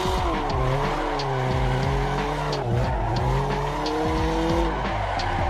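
A racing video game car drifts at high angle off throttle, its tires squealing in a sustained, wavering screech over a steady engine drone, loud and continuous with no talking.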